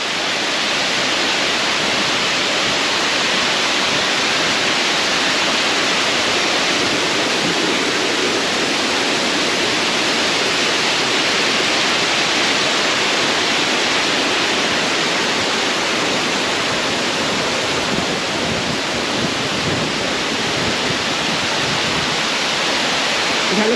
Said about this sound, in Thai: ก็เสียงน้ำตกดังมากครับ